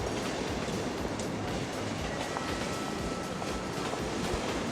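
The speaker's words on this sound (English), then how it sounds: "That's dispatching trams" Trams running through a city in Cities: Skylines, a steady rumbling rail-transport clatter that holds an even level throughout, with no talk over it.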